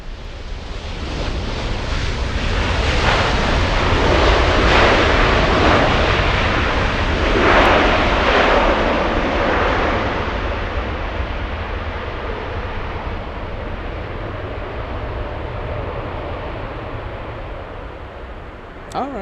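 A heavy Airbus A350 lands on runway 24 right at LAX, a loud, sustained jet roar that swells and then slowly fades as the aircraft passes and rolls out, with wind rushing over the microphone.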